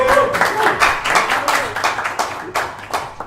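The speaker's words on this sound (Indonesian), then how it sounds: "Tepuk tangan dong." An audience breaks into a burst of clapping at a band talk show, welcoming a new guitarist, the applause steady and fairly loud for a few seconds before tapering.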